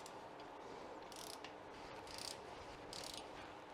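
A ratchet clicks quickly and repeatedly while tightening the timing belt tensioner on a Ford Escort Cabrio XR3i engine, heard close and fairly quiet in short bursts over a steady background hiss.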